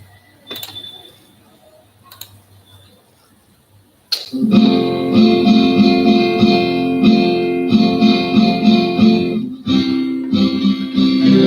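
After a few quiet clicks and taps, a loud backing track kicks in with steady guitar chords and rhythm, playing continuously to the end.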